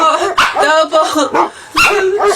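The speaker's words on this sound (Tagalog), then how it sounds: "Kapag daw tumatahol yung aso sa gabi" A dog barks at night in a series of short, loud, close yips and barks separated by brief pauses.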